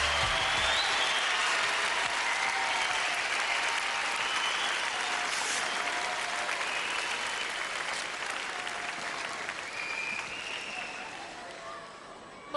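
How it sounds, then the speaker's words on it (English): A large studio audience at a 1993 UK Gladiators semi-final applauds a contender, a loud, dense, continuous roar of clapping with crowd cheering mixed in, holding steady and easing slightly toward the end. "she's going to get a round of applause for being a tremendous contender"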